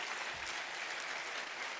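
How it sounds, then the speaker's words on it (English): An audience at an international CSR conference breaks into sustained applause, a dense, even wash of clapping from a crowd indoors, steady and moderately loud for the whole moment. "Let's clap for Jesus."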